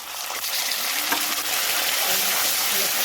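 Cumin and ginger paste frying in a pan for a vegetarian dal, giving a steady, close hiss of sizzling with faint stirring throughout.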